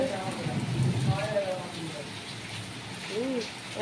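Steady rain patters on surfaces throughout, with a person talking briefly over it and again near the end.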